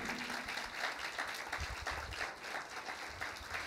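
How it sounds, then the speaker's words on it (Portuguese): Audience applauding during a Portuguese-language church worship service, a steady wash of many hands clapping at moderate level throughout without a break. "Você pode aplaudir a Jesus?"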